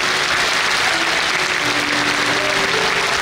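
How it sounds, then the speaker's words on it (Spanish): A church audience applauds loudly and steadily during a Catholic priest's talk on family, a dense continuous clapping that fills the room throughout. "Ese aplauso es para el Rey."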